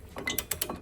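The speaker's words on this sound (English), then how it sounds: "then we can use our ratchet" A ratchet turns a bolt during a disc and pad change on a 2019 Peugeot 308, giving a quick run of crisp, close mechanical clicks with no talking.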